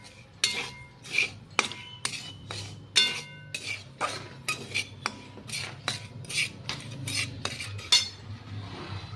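A spoon scrapes and clinks against a pan while semolina dry-roasts for upma, a series of sharp metallic strokes in an irregular rhythm, close and fairly loud, with no talk.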